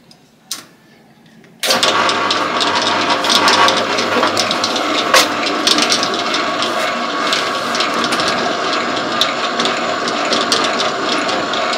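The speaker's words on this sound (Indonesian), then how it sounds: "Nyalakan mesinnya, langsung mengadon." A Gomesin dough mixer kneads bread dough made with mashed potato; after a brief quiet moment the machine switches on and runs with a loud, steady mechanical whirring and grinding to the end.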